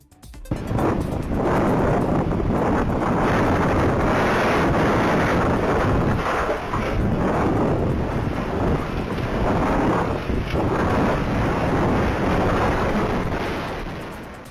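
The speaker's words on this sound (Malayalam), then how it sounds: "കൊച്ചി ചെല്ലാനം കണ്ടക്കടവിൽ ചുഴലിക്കാറ്റ് വീശി 3 വീടുകളുടെ മേൽക്കൂര തകർന്നു." Strong wind gusting at night through Kandakkadavu, Chellanam in Kochi, a sudden whirlwind that tore roofs off houses; a loud, steady roar with heavy buffeting against the microphone throughout, no voices.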